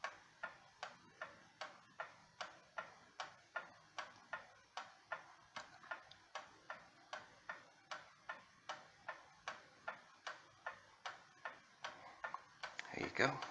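Seth Thomas gallery wall clock from about 1910 ticking steadily and close, a sharp regular tick-tock repeating through the whole stretch, the beat evening out as the case is leveled, with a brief clatter at the end.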